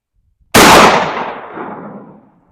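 A 12 gauge shotgun fires a single Winchester Deer Season 1 1/8 ounce slug on a range, one sharp, loud blast that cuts in from silence and then rolls away in a long fading echo.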